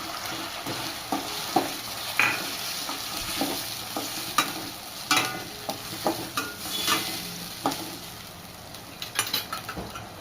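Tomatoes fry in a pan for chana masala with a constant sizzle under frequent stirring strokes and light spoon taps against the pan, close and moderately loud, with no voices.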